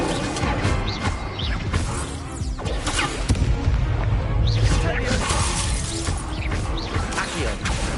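Spells are cast in a Harry Potter video game: a dense, loud run of crashes, shattering bursts, whooshes and booms plays under an almost constant shouting voice.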